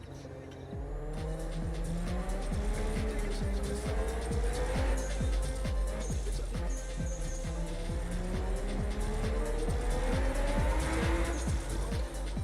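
A car braking hard with tires squealing in a racing video game with a 280 CS-style car: continuous engine roar with repeated screeching skid tones throughout, loud and sustained.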